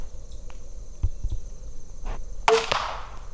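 An arrow shot from a bow on a bear hunt thwacks into a target at close range with one sharp hit, set against a faint outdoor background of chirping insects.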